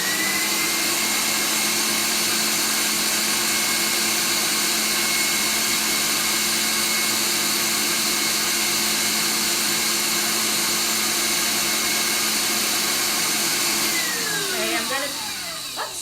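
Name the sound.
electric mixer whipping with Madagascar bourbon vanilla bean paste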